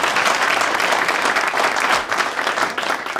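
A crowd breaks into loud, steady applause, dense clapping that continues without pause.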